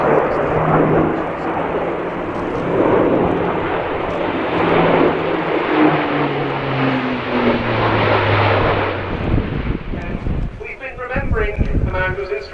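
An Airbus A400M military transport flying a display at an air show, its propeller engines roaring loudly and steadily with a falling drone as it passes, fading near the end.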